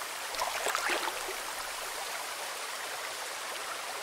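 Steady river water flowing in the Survivalist: Invisible Strain video game, a constant broadband rush with a brief louder splash early on, heard alone without talk.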